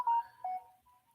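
A phone's short electronic notification tones sound in a quiet room, two brief beeps a fraction of a second apart, the second trailing off into a faint lingering tone.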